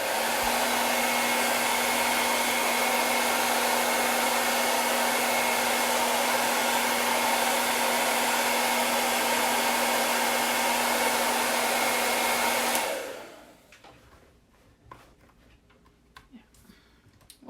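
A hair dryer blows steadily and loud on a watercolor canvas for about thirteen seconds, then switches off, leaving quiet handling noises and small clicks.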